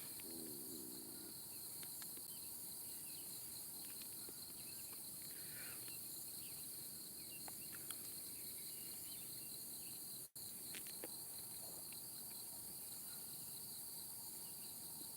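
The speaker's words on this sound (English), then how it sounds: "I can hear the crickets and stuff," Steady, high-pitched crickets chirp continuously in a quiet night setting, with faint distant sounds underneath.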